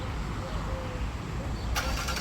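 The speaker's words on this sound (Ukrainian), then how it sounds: "І ось вона у нас завелась і прогрівається двигун" A 2021 Jeep Cherokee Limited 3.2 engine turns over and catches, then settles into a steady low idle while warming up, heard close by with no talking.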